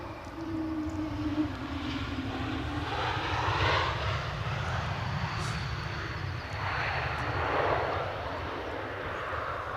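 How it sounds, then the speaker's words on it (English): Aircraft coming in to land at windy Edinburgh Airport, a steady engine roar with wind rumble, a descending whine early on, holding fairly constant and moderately distant with no talk. "let this aircraft come in"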